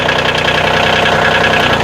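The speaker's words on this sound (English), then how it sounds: "we got D-Ron rocking the tractor" A tractor engine runs steadily at a mid-pitched idle with a rhythmic knocking pulse, loud and close, continuing without a break and with no voices.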